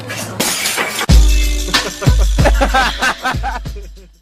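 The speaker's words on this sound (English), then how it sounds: "He smashes the bulb." A light bulb is smashed on purpose with a loud, close shattering crash, followed by a run of tinkling glass fragments and further clattering impacts.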